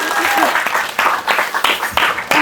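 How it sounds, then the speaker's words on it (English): An audience applauds panelists at a creative-industry panel event in a cinema room, a steady wash of clapping with a few bursts and cheers, while talk runs underneath. "another round of applause for our panelists, please"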